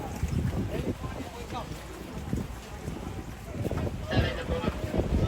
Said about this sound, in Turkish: Şöyle tekne bindim.